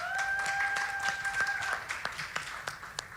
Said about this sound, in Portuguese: eu quero que vocês também aplaudam